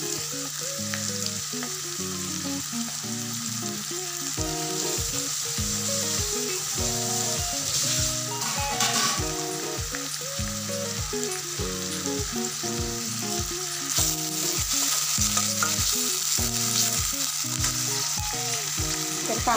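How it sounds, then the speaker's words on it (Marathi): Onion and tomato frying in oil with curry leaves for a besan vadi masala curry, a steady loud sizzle running throughout under a rhythmic pattern of repeated pulses, with no talking. "तर कांदा टोमॅटो छान तेलामध्ये परतेपर्यंत"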